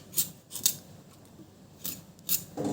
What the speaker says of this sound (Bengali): এটাকে সুন্দর করে কেটে নিচ্ছি এবং কি সাইজে কাটছি আপনারা দেখবেন।